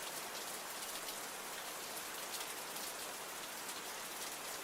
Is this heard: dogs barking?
no